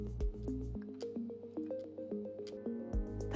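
Small liquid squishes and drips from a pipette dispensing 1.5 millilitres of distilled water into assay tubes, a string of soft, irregular clicks and plops, close and quiet.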